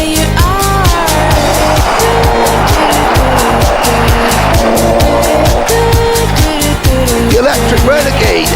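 Rotax racing karts scream past on the track at the Bahrain Grand Finals, a loud, dense, rapidly pulsing engine whine as the pack gets underway, with shifting pitches from several karts overlapping.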